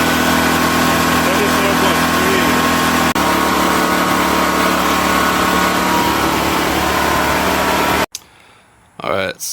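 A Powerhorse generator engine that had been fitted with a new AVR, carburetor and solenoid runs at a steady, loud drone. It cuts off abruptly near the end, and a faint voice follows in the quiet.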